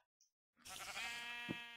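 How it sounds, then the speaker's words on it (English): A sheep in a video game gives a single drawn-out bleat, wavering and nasal, following a brief faint blip, clear and close against an otherwise quiet game background. "Sheep."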